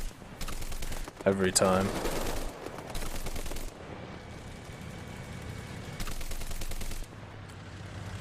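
Bursts of machine gun fire from the War Thunder video game, on the Campania map in a dev-server update, come in several rapid clusters at moderate loudness, with someone talking briefly in between.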